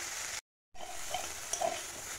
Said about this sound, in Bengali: এই যে ফুলকপিটাকে একটু সামান্য ভেজে নিলাম